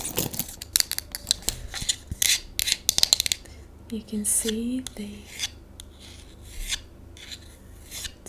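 A wooden hairbrush is tapped and scratched up close for ASMR: sharp irregular taps, then raspy scraping strokes across the wood, with a soft voice speaking briefly in between.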